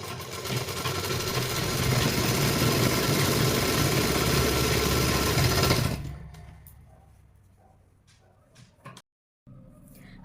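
A sewing machine runs steadily, stitching a seam along double-folded fabric for a ladies' pant, with a constant mechanical hum for about six seconds before it stops and the room falls nearly quiet.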